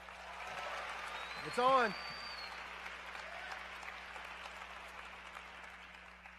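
An audience at a campus worship service at Anderson University applauds the band, a faint, distant wash of clapping that continues evenly while someone briefly speaks near the start.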